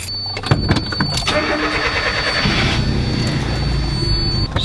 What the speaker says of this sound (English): Gonna go ahead and start the truck now.